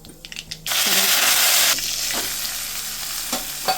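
Urad dal usili being stirred in a pan with salt and asafoetida, a loud sustained scraping sizzle that starts after a quiet opening and continues with intermittent stirring knocks, no talking.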